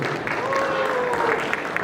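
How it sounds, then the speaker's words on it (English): Audience applause at a stage panel discussion welcomes panel members, a busy patter of clapping hands beneath a brief drawn-out voice cheering over it. "Round of applause, please."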